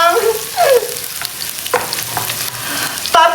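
Onions sauté in a pan for spaghetti, a loud steady sizzle with spatula scrapes and clinks scattered through, no talking.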